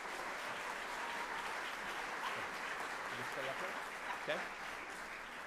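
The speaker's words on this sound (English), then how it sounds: "Round of applause." Audience at a university fall-semester opening session gives a fairly faint, continuous round of applause, with a brief spoken word heard over it.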